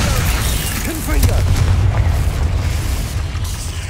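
A Confringo spell blast in Hogwarts Legacy lands as a loud, deep, rumbling boom that swells and lingers through the clip, with combat noise and a voice mixed in.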